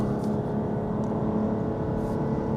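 A Lexus LBX held at full throttle, with a steady, droning engine roar and a muffled cabin whir running continuously, close and loud throughout with no break.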